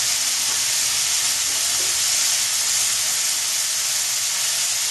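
Chamani prawns frying in a pan over panch phoron spices, a loud, steady hissing sizzle with no clear breaks, heard close up and with no one speaking.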